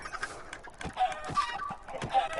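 Chickens cluck in Minecraft as they are struck and killed with a sword, short squawky clucks repeating in a loose rhythm at moderate level.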